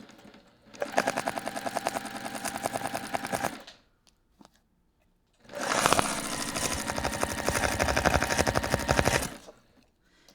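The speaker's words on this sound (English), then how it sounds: "I'm just sewing 1/4 inch." A sewing machine stitches a quarter-inch seam on a fabric bag in two rapid, rattling bursts of several seconds each, separated by a short quiet pause, close and clear with no talking.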